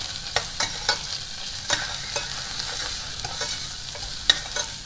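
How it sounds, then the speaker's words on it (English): Prawn shells fry in hot oil for a Thai tom yum goong, with a steady sizzle broken by irregular scraping knocks of a utensil stirring them around the pan, close and fairly loud, no voices. "Slowly cook out the prawn shell."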